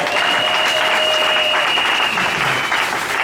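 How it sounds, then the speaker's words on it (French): Church congregation applauding a couple, a dense, steady wash of clapping hands filling the room throughout, with faint voices mixed in. "Est-ce qu'on peut encore acclamer pour eux?"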